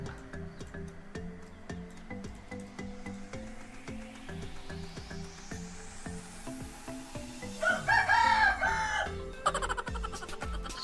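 Many backyard chickens cluck softly and steadily in the background, and a rooster crows loudly near the end. There is a faint rising hiss throughout.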